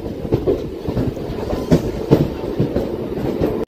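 A train pulls out of Narasaraopet railway station after arriving forty minutes late, its wheels beating out a clear, rhythmic clickety-clack over a low rolling rumble, close and alone.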